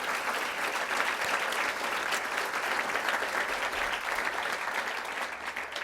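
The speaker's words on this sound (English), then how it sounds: "So let's give them a round of applause." Gala audience clapping for event sponsors at a charity dinner, a sustained, fairly distant round of applause that holds steady from start to finish, with no talk over it.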